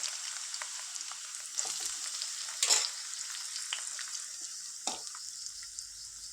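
Sliced onions and green chillies fry in hot oil with a steady, bright sizzle that holds throughout, broken by a few brief stirring clicks and a louder burst near the middle.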